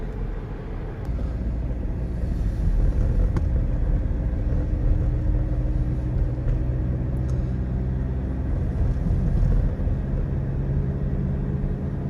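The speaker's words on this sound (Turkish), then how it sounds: "Şu an devir aralığım 2 olmasına rağmen motor sesi geliyor." A steady low engine rumble from inside a moving 2019 Seat Leon ST 1.6 diesel at around 2,000 rpm, with droning road noise that continues evenly throughout; no one speaks.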